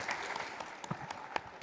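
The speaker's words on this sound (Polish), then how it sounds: "Wielkie brawa." Applause from a live audience at a press-conference-style event, fairly faint and brief, with scattered claps rising over a low background murmur.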